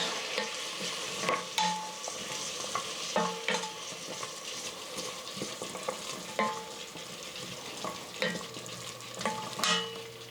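Chopped garlic, celery, onions and carrots softening in a soup pot over a burner, a moderate sizzle broken by repeated spoon strokes and scrapes against the pot, close by with no talking.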